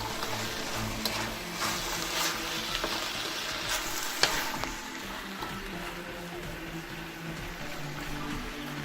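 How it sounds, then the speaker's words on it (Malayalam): Spring onion stalk thoran with cooked toor dal being stirred in a pan, a steady low sizzle with scraping spoon strokes throughout, close and continuous with no talking. "എന്നിട്ട് നന്നായി ഇളക്കി കൊടുക്കാം."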